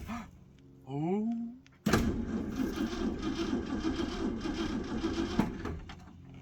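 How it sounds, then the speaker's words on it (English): A 1964.5 Ford Mustang engine cranking on the starter, a close, loud steady churning that runs for several seconds after a brief tone and a sharp click. "So let's just go for a quick crank."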